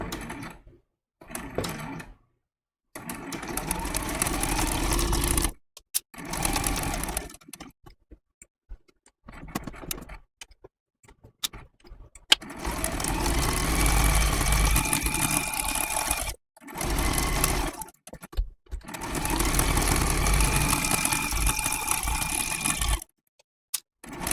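A sewing machine stitches around a snowflake appliqué trivet for a quilting project, running in several bursts of rapid, even whirring separated by short pauses, close and clear with no talking.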